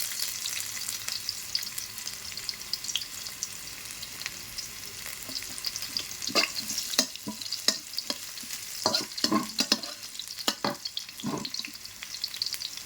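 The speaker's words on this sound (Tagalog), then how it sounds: "mix natin ang bawang" Garlic frying in a pan for sinampalokang manok, a continuous close sizzle broken by a run of sharp scraping stirs in the second half, with no voices.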